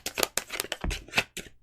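Tarot cards are shuffled up close, a quick series of crisp riffling snaps and soft slaps, each lasting a fraction of a second, with no talking.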